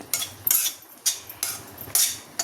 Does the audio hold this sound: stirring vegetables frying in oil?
yes